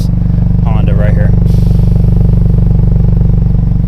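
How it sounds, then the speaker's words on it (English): The exhaust of a 2020 Honda Civic Si idles close and loud with a steady, pulsing rumble that continues throughout. A brief voice is heard near the start. "let's check out the exhaust on this Honda right here."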